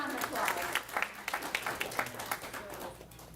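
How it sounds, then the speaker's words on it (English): A keynote audience claps after a speaker is thanked, scattered distinct handclaps at a moderate level that thin out and fade across a few seconds, with a voice briefly heard underneath. "Give her a round of applause."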